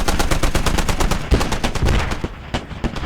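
Rapid automatic gunfire rattles through a video game battle between armored vehicles, dense and loud bursts of shots in quick succession, with a few heavier bangs and short pauses near the end.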